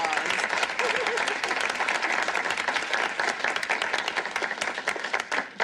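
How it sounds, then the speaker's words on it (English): A studio audience claps for the last two contestants of a game show in a sitcom scene, dense steady applause throughout with a faint voice briefly audible early on, easing off at the end. "Let's give them a nice round of applause."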